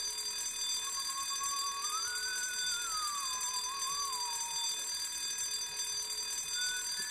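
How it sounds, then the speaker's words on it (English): Alarm in the White Day: A Labyrinth Named School horror game, a steady electronic ringing tone with a faint wavering whistle gliding up and down over it, continuous and moderately loud, no voices. "Okay, maybe we don't need the alarm on"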